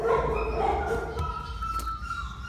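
Dogs awaiting adoption at an animal shelter yip and whimper, with short excited barks and whines mixed into a busy, noisy background.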